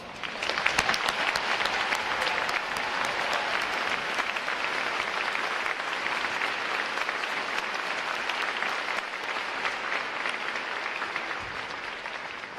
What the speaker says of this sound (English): please join me in giving all our veterans a well-deserved round of applause